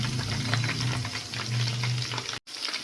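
Chicken kabab frying in a pan at home, a steady close sizzle with crackling bursts that runs continuously and cuts out briefly near the end.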